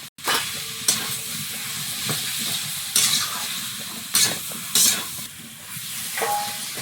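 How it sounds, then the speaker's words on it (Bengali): Potatoes frying with spices in a pan, a steady sizzle with periodic scraping and stirring strokes of a spatula, close and fairly loud, no voices. "আলুটা তো ভালো করে কষানো হয়ে গেছে মশলার সঙ্গে।"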